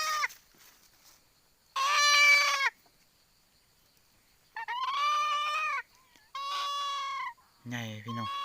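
Wild jungle fowl hen calling with several loud, drawn-out squawking clucks separated by quiet gaps, near and clear outdoors, with a low voice briefly at the end.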